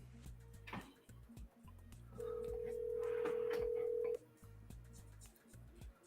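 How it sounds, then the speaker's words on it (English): A telephone dials and rings, a steady electronic tone held for about two seconds over quiet, rhythmic background music, heard during a live stream call. "Can you hear the phone?"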